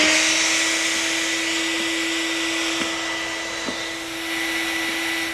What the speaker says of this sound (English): Make sure your shop vac is properly grounded and turn it on.